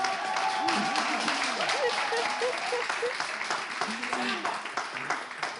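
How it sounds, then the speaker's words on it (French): Studio audience applause on a French radio show, steady clapping filling the whole stretch with a speaking voice running underneath. "On applaudit pour..."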